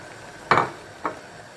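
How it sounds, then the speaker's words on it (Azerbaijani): Chopped onions hit a pan of cooking eggplant dish, making two short clattering, sizzling bursts, the first louder and longer than the second, over quiet kitchen background. "doğramış olduğumuz soğanları əlavə edirik."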